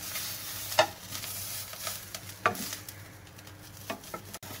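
Sausage rolls frying in a pan and turned over, a faint steady sizzle broken by a few sharp scrapes and clinks of flipping at intervals, with no talk.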